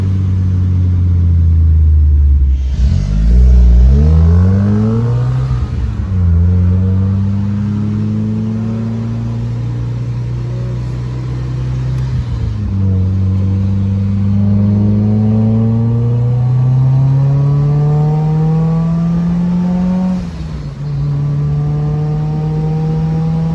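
A 1999 Ford Mustang Cobra with a Kenne Bell supercharger and stock clutch and flywheel accelerates hard through several gears, its engine note climbing and dropping at each shift, loud and close throughout.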